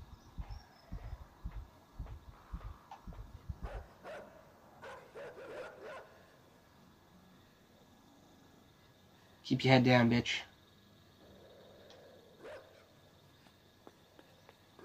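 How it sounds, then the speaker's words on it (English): Dogs bark in the video game Inside, with one loud, brief burst of barking partway through. Someone talks over game sounds earlier on. "There's dogs there."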